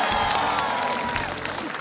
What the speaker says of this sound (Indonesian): Boleh tepuk tangan sekali lagi untuk mereka.